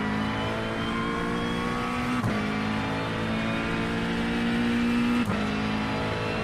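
A GT3 race car engine in iRacing at Monza howls steadily under load, with two quick upshifts that briefly cut the note before the revs climb again.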